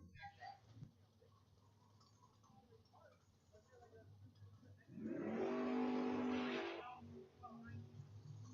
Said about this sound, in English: Lee Roberts going to make the single here out of Sparks, Nevada, the 40 Ford pickup